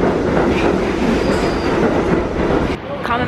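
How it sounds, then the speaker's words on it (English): A New York subway train rumbles loudly and close, with a steady roar of wheels on rails and a faint squeal near the end. "So let's get on the subway and go."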